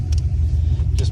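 A tuned car driven down the road, heard from inside as a loud, steady low engine and road rumble with faint clicks on top, close and continuous, no talking.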